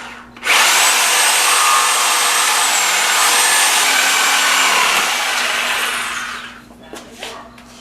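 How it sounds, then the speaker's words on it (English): A sawzall reciprocating saw cuts through a piece of wood during a 1973 Honda CB750 engine install, loud and close, running continuously for about six seconds before winding down with a few knocks after. "we can make quick work of this with the sawzall."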